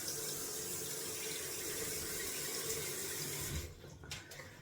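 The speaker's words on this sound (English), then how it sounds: "Gonna add some cold water to the face." A tap runs steadily into a sink during a wet shave, a close, even rush of water that cuts off near the end, leaving a few faint splashes.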